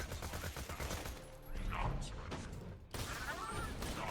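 Shotgun Supreme firing in a video game, a couple of heavy blasts with a burst of crackling impact noise, fairly quiet overall, with someone talking over the shots.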